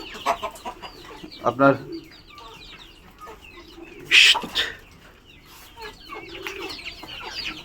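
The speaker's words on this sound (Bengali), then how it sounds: "দেশি মুরগি ছেড়ে দিয়েছি" Native free-range chickens cluck repeatedly around a poultry farm in Savar, Dhaka, during rain, the calls moderately close and irregular, with a person speaking over them.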